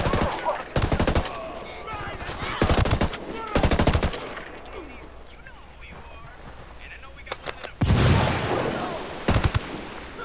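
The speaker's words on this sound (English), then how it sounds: "Opening fire." Ghost Recon Wildlands firefight in Espiritu Santo: several loud bursts of automatic gunfire spaced a couple of seconds apart, with a few single shots near the end and talk in between.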